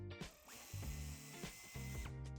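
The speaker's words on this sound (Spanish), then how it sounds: "En ambos pasos de rueda quitaremos 2 tornillos de estrella que vemos aquí" A ratchet clicks as star screws come out of a wheel arch on a 2025 Omoda 9 during a tow hitch fitting. Several rapid, close bursts of ratcheting are broken by brief pauses.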